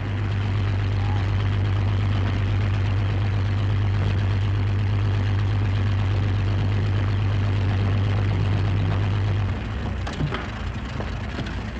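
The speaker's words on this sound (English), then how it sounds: "Air Ministry plane arriving." An Air Ministry propeller plane comes in to land, its engine a loud, steady drone with a low hum that holds for most of the stretch before easing off near the end.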